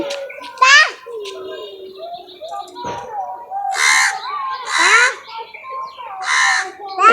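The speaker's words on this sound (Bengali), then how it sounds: "দিকে কাক ডাকছে" Several loud, harsh caws of crows burst out in rough groups, close by, with a voice chattering between and beneath them.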